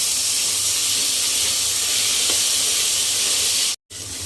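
Tadka tempering with tomato, ginger and green chillies sizzles in hot mustard oil, a steady, loud, hissing crackle that runs unbroken before a brief cut near the end.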